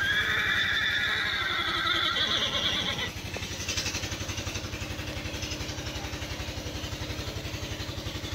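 A horse being readied at a Sikh fair in Kurukshetra, Haryana, gives a loud, drawn-out neigh lasting about three seconds over a low, rhythmic throbbing that continues steadily after the call ends.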